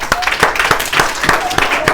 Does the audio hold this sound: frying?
no